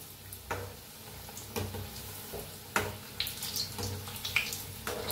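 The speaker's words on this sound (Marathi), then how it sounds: "तेल बघा आपलं चांगलं तापलंय, आपण भजी सोडून घेऊया" Bhaji pakoras dropped into hot oil and frying, a continuous bubbling sizzle with periodic splashy bursts as each batch goes in and is turned.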